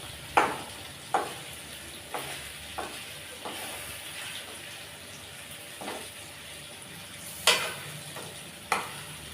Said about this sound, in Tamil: இந்த சைடு ஒரு 2 நிமிஷத்துக்கு நல்லா வதங்கட்டுங்க